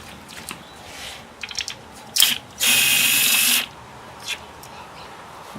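Ratchet loosening a bolt on a 2000 Mercury 50hp outboard powerhead during removal. A few short clicks lead into a sustained one-second burst of ratcheting, close and loud, then a brief click afterward.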